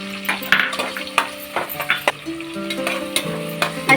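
Chopped onions and green chillies frying in a pan for chicken biryani: a steady close sizzle, broken by repeated scrapes and taps as a spoon stirs through the oil, with no one talking.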